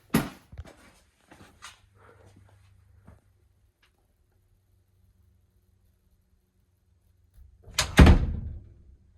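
A door swings and is eased shut by its closer, with a few soft taps and clicks early on, then a long quiet pause before a loud thump as it latches.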